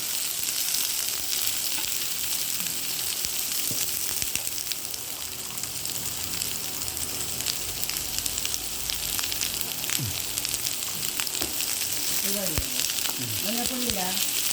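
Onion sizzling and frying in a pan for masala dosa filling, a steady loud crackle throughout with occasional stirring scrapes, no talking.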